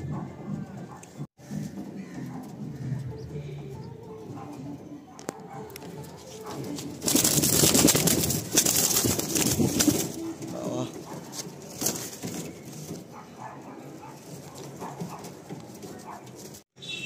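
Madrasi pigeons coo and shuffle inside a full loft in Kolkata, soft murmuring calls with occasional wing flutters that swell louder midway, while people talk nearby.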